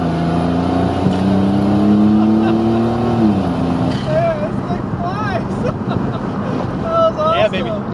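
A 1991 GMC Syclone with its all-wheel drive and 4.3-liter turbocharged V6 launching hard, the engine tone rising steadily through a gear before a shift, then wind roar and excited voices over the running engine.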